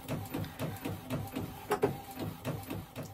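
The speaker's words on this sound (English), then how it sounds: "there goes my graphic printing out of my printer" Desktop printer running a sublimation transfer print, its feed mechanism chugging in a steady repeating rhythm of soft mechanical pulses, close and moderately quiet with no talking.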